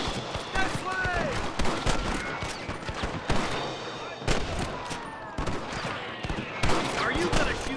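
Rapid gunfire crackles through a Red Dead Redemption shootout against rustlers, with dense bursts of shots, ricochets and impacts layered over one another, loud and continuous, while voices shout beneath the fire.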